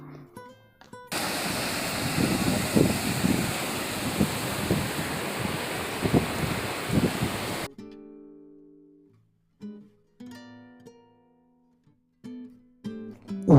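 Sea waves surge and roar on the beach at Digha, a loud, steady wash of surf lasting several seconds before it gives way to sparse, quieter sounds.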